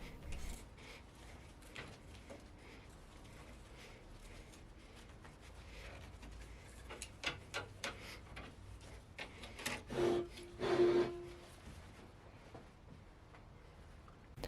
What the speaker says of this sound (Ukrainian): беремо нейлон щітку та обережно чистимо різьбу балону